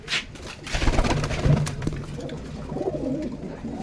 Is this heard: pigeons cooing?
yes